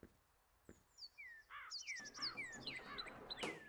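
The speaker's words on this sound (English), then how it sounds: "I hear only the birds." Birds chirp outdoors in a quiet neighborhood, several thin rising and falling tweets coming in quick overlapping bursts, fairly close and clear, with a couple of soft knocks and no talking.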